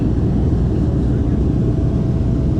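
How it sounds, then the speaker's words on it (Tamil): Passenger airplane descending toward a runway in Tanzania over farmland, heard from inside as a steady, loud broadband engine and air roar that holds without break. "லேண்டிங்க்கான ஒரு விஷயமே இல்லை, ஆனால் டிசென்ட் ஆகுது. ஃப்ளைட் ஸ்லோவாகுது."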